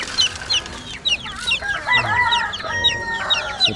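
Chickens and small chicks cluck and peep close by in a rapid, overlapping series of short calls, with a few louder squawks mixed in.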